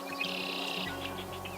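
Several birds call at a wetland lagoon, sending out bright chirps and tweets over a steady outdoor hum, close and fairly clear, with no voices.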